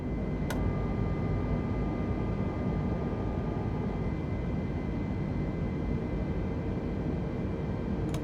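Airbus A320 engines climbing after takeoff in Microsoft Flight Simulator 2020, a steady, broad, unchanging roar with a faint click near the start.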